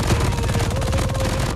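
Rapid automatic fire from an MG42 machine gun in a shooter video game, a dense unbroken burst of loud shots lasting over a second, alone without speech.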